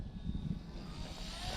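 An RC Super Decathlon model airplane's engine hums steadily at low throttle as it comes in to land, a continuous airy drone with wind noise and no voices.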